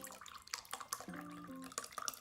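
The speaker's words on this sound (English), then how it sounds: "get a cup of water and measure it out." Water is poured into a cup to measure it out while preparing a Chinese special forces MRE ration: a short, close trickle with a few drips and a brief rising pour tone, heard alone.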